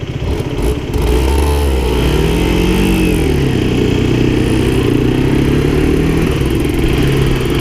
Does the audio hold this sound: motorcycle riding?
yes